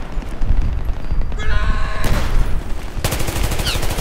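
Multiplayer gunfire in Battlefield 3: dense, loud automatic fire rattles continuously, with overlapping bursts and sharp volleys stacking into a heavy, unbroken barrage.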